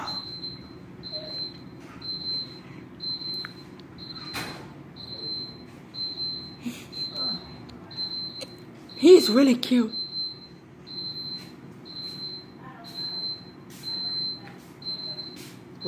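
An alarm in a bedroom beeps in a regular, evenly spaced high-pitched pattern, faint and persistent beneath people talking and moving nearby.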